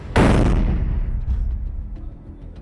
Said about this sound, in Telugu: ఒక్కసారిగా పేలుడు శబ్దం.